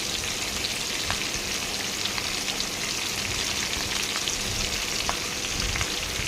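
Curry leaves sizzle in hot oil in a pan of frying fish curry, a continuous close, steady crackle with scattered sharp pops throughout.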